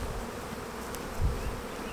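Honeybees at a hive in a beekeeping yard make a steady, dense buzzing hum, close and continuous, with individual bees droning past.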